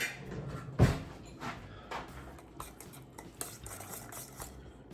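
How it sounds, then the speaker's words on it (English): A whisk clinks and scrapes against a bowl while mixing chimichurri or aioli, starting with a sharp knock followed by quieter irregular tapping and stirring, close by. "Let's get to whisking"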